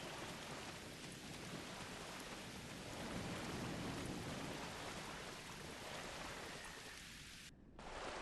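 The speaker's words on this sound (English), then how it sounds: "Wow, rain on Ryza." Rain falls on planet Ryza in the video game Star Trek Online, a loud, dense, continuous downpour with a deep rumbling undertone. It cuts out briefly just before the end.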